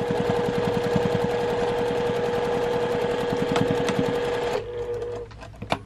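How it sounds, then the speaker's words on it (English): A sewing machine stitches a crossbody bag with a fast, steady mechanical rattle of needle strokes up close, ending abruptly as the machine stops, followed by a few small clicks. "You're stitching on the same exact line."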